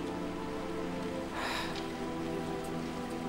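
Steady rain falls on surfaces, an even hiss that fills the whole scene, with a brief louder splash-like swell near the middle and no speech over it.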